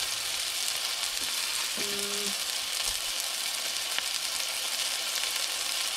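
A hamburger patty fries steadily in a pan, giving a continuous broadband sizzle with faint crackle that holds at an even level throughout, a brief low tone briefly rising beneath it.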